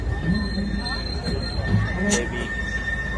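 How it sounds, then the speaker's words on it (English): Legoland park train ride rolling past the racing car driving school track, with a steady rumble, wheel squeal and a high whine throughout, continuous and close under a background of voices. "We are still going on the train"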